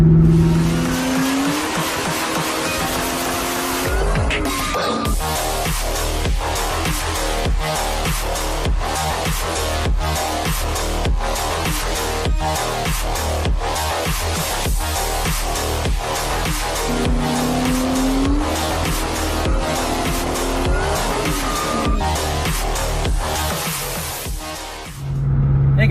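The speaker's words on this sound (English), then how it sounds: "The Cobra just started misfiring, and actually misfired twice under load." 2004 Ford Cobra SVT V8 running hard under load while misfiring, a loud, close engine roar broken by rapid stuttering pulses through most of the stretch, with two rising revs near the start and again late on.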